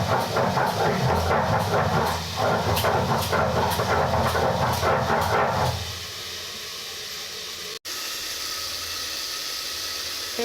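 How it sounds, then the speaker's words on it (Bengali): Mustard, poppy seeds and green chilli being ground on a stone slab, a rhythmic rough rubbing and grinding that runs steadily for about six seconds and then stops, leaving a quieter background hiss broken by one brief click. "শস্য পোস্ত আর কাঁচা লঙ্কাটা পেস্ট করা হচ্ছে শিলেই বাটা হচ্ছে"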